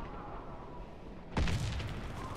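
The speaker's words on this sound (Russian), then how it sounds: "Осторожно, граната!" A grenade goes off in the Warface shooter game, a single sudden boom rising over steady low battle noise and leaving a lingering rumble afterward.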